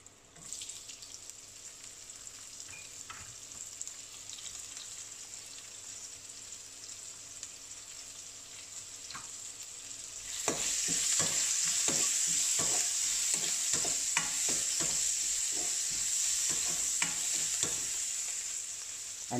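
Onion frying in hot oil in a pan for a Sri Lankan prawn curry: a quiet hiss at first, then a louder, steady sizzle as the onion goes in, with scattered clicks of stirring.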